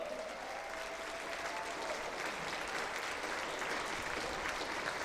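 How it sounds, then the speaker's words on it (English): Audience at a climbing competition final claps steadily for a second-place finisher, a dense, even wash of applause at moderate distance filling the whole stretch without a break. "Give a massive round of applause for Jen Wood."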